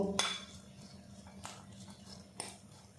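Chopped vegetables being mixed with salt in a bowl, with a few quiet, sparse clinks of a utensil against the bowl and soft rustling in between.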